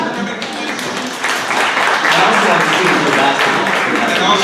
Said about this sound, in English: Can I get a round of applause for that, at least for coming to this?